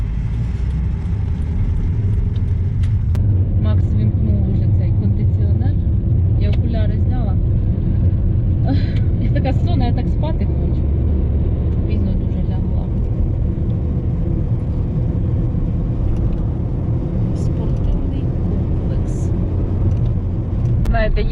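Steady low road rumble inside a car travelling a highway through Kirovohrad region, Ukraine, continuous throughout with people talking over it.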